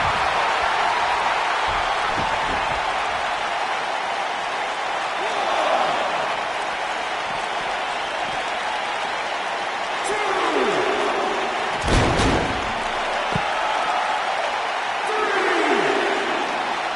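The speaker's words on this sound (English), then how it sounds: "I don't remember the last time I heard a more passionate crowd than the one we have here tonight" A dense arena crowd roars and applauds continuously in the WWE 2K19 video game at a Hell in a Cell event, loud and steady, with a commentator's voice talking over it.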